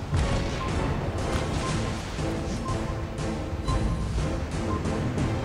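Torpedoes launch from a warship in World of Warships Blitz amid a dense, loud rumble of repeated crashing impacts and booms, continuous and close with no speech.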